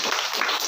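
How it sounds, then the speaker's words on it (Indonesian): A brief burst of audience applause, many hands clapping at once in a dense, even wash that holds at a steady level for under a second. "Sekali lagi tepuk tangan apresiasi untuk semuanya"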